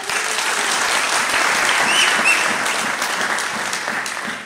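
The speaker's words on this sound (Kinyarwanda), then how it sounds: "Tumwakomera Imana amashyi." A church congregation at a year-end worship concert claps in steady, dense applause, loud and close throughout, with no pause or talking over it.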